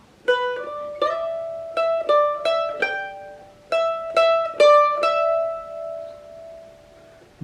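Mandolin picking the lead melody, solo and close, with bright plucked notes in a quick phrase, some repeated, ending on a long ringing sustained note.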